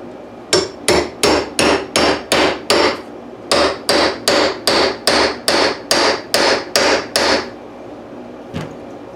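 A hammer drives a spur center into a cherry wood blank, about sixteen sharp, evenly spaced blows in two bursts with a short pause between, then one faint final tap.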